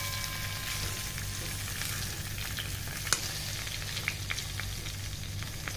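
Large mango pieces frying in a pan for a sweet-and-sour pickle give off a steady, moderate sizzle with occasional stirring clicks, close by and with no talking.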